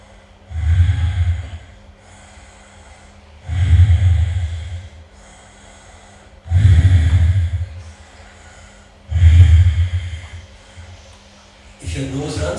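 Deep abdominal breathing in a slow, steady rhythm: four long, loud breaths through the nose, each lasting about two seconds, separated by pauses, with a fifth beginning at the end.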